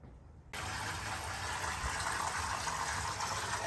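Water gushes steadily into a converted chest freezer being filled as an ice bath, a loud continuous rushing that starts abruptly after a quiet moment and holds even.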